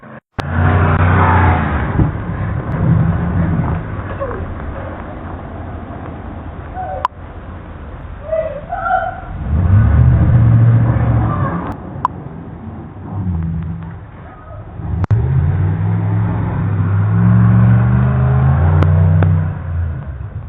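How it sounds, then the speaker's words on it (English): A truck speeds along a street at night, its loud, heavy engine roar swelling and fading in repeated surges that fill the whole stretch. "A truck is speeding toward her."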